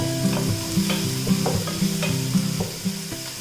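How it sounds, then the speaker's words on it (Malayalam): Chopped onions and crushed spices sizzle in a hot pan while a spoon stirs them, rhythmic scraping strokes repeating every half second over a steady frying hiss. "അതിട്ടിട്ടൊന്ന് വഴറ്റി കൊടുക്കാം. ഇതോടൊപ്പം തന്നെ നമ്മൾ ഈ ചതച്ച് വെച്ചിരിക്കുന്നതും കൂടി ഇട്ടിട്ട് ഇളക്കിയെടുക്കണം"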